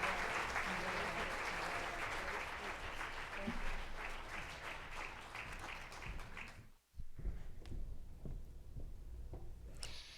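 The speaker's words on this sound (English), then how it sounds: "In a round of applause, Iko Villanueva." A hall audience at a FIFA women's football symposium gives the prize winner a round of applause: dense, steady clapping for about seven seconds that breaks off, followed by quieter scattered room noise.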